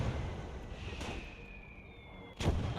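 Mortar and artillery fire in the WWII strategy game Gates of Hell: Ostfront, with dull booming blasts over a continuous battle rumble and a sharper, louder explosion near the end.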